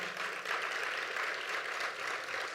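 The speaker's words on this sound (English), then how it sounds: "a huge applause to Dhanya's fiancé, Karthik, and his parents for their support to Dhanya as well" Soft, even applause from an audience at a Bharatanatyam arangetram dance debut, a continuous patter of hands heard at a moderate distance with no voices over it.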